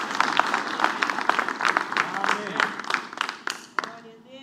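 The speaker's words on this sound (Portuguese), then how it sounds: "Vamos dar uma salva de palmas ao Senhor?" A church congregation claps in a steady, rhythmic beat at moderate volume, and the clapping fades out near the end.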